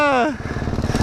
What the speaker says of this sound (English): I bogged and stalled and am just a failure of a dirt bike rider